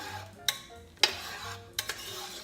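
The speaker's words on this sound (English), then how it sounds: "just stir these in" A spoon stirring ingredients into a pot of cauliflower chowder, three or four sharp clinks against the pot over a quiet, soft scraping background, close and alone.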